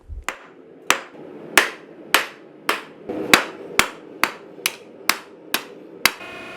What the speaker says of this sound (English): currently hammering that section flat